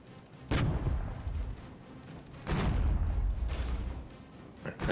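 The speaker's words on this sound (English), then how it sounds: "These are also artillery pieces." Artillery fire in the game Regiments: several heavy booming blasts with rumbling tails, the loudest near the start and middle, against a low battlefield rumble with no talk.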